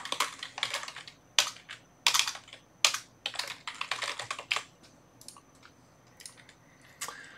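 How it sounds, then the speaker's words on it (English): Text being typed on a computer keyboard, close crisp key clicks in quick bursts and short runs separated by brief pauses, with no talking. "And we'll type in our text."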